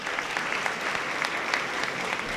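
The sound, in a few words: audience applause after a lecture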